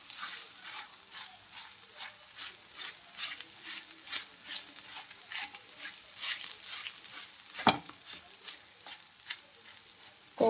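Cucumber and semolina tosha bhakri, a Konkan Malvan flatbread, cooking on a pan over medium flame: a soft continuous sizzle broken by scattered crackles and pats, faint and close, with no voices.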